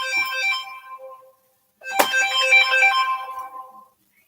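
A phone ringtone plays clearly, two bright melodic bursts separated by a short silence, the second starting with a sharp hit; loud and close, with no voices.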